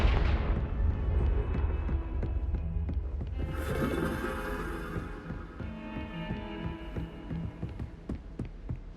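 Confringo blasting spell explosions in Hogwarts Legacy: repeated heavy booms and crackling impacts layered over a low rumble, loud and near, with a brighter burst midway and sharp hits trailing off.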